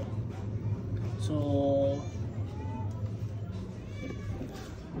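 A cat gives a short meow, then a fainter second one, close by over a steady low background hum, with a person speaking around them.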